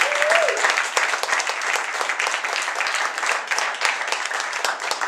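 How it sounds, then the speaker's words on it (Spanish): A small jazz club audience in the vaulted cellar of La Bóveda del Albergue, Zaragoza, applauds the drummer of the Miguel Viejo Sextet, steady dense clapping close by and sustained throughout. "un aplauso por favor"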